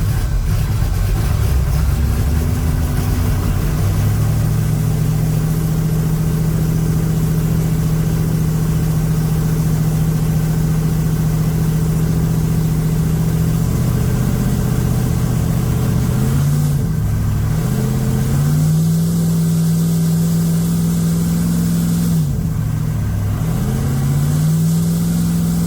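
A 1980 Trans Am V8 with freshly changed front carburetor jets and its idle mixture screws under adjustment, idling loud and close with a rough steady rumble and dipping briefly twice as the revs shift, no voices.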